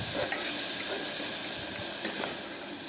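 Chilli paste frying in a pan with curry leaves for masala rice, a steady close sizzle and hiss with light stirring scrapes throughout, no voices.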